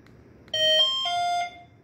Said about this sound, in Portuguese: eu posso acionar pelo controle remoto aqui do alarme